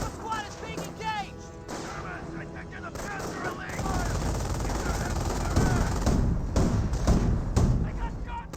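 A 222 armored car fires on riflemen in Company of Heroes, rapid bursts of gunfire and explosive cracks layered in dense battle noise while a commentator talks over it.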